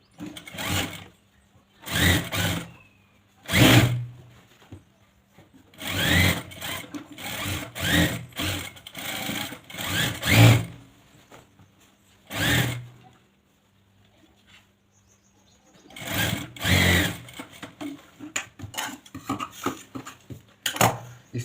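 Sewing machine stitching a border seam around the back pocket of a pair of trousers, running in repeated loud bursts of a second or two with short pauses between them, alone without talk.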